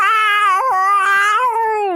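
A cat screams in a loud, drawn-out caterwaul that wavers in pitch, close to the microphone, with no other sound around it.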